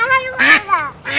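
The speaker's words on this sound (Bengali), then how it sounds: "আজকে 3টে হাঁস কাটা হবে।" Domestic ducks quack in short, loud, nasal bursts close by, three calls in quick succession with brief gaps between them.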